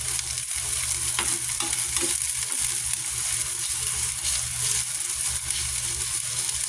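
Garlic and onion sauté in a pan for ginisang mongo, browning in oil with a steady broad sizzle and occasional scrape of a spatula stirring, close and continuous with no talking.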